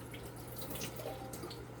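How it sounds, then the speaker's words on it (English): Water running from a tap into a spray bottle or container as it is topped off, a steady close trickle with faint dripping, no talk over it. "Then I top this off with water."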